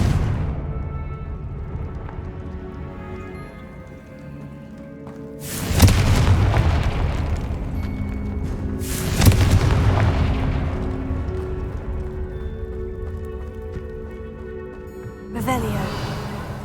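Fire-spell explosions from the video game Hogwarts Legacy: three heavy booms burst out about four and six seconds apart, each loud and wide, rising over a steady bed of background music and ambience.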